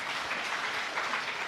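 A church congregation claps together in steady, dense applause that fills the space at an even level for the whole moment, with no talking heard over it.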